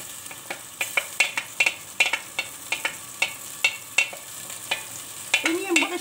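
Tomatoes and onions frying in a pan as green bean and greens kavurma cooks, with repeated sharp scrapes and clacks of a spoon stirring over a steady sizzle, close and fairly loud, no talk.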